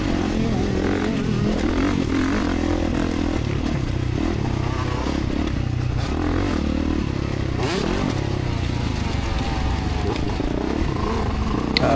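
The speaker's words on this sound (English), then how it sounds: "Sounds like a crispy 125 in front of me." Crisp two-stroke whine of a 125cc motocross dirt bike on a practice track, heard from a following KX450 rider's position, blended with the rider's own engine roar, steady and loud throughout with occasional clatter and scrape.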